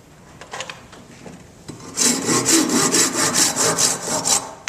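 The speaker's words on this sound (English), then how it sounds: "My arm gets tired of sawing like that" A hand saw cuts through wood in steady back-and-forth strokes. A quiet, scattered lead-in gives way to a loud, even rhythm of close rasping pulls.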